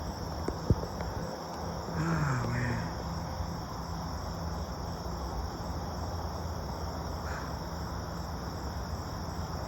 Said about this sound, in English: Crickets and frogs.